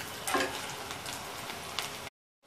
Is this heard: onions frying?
yes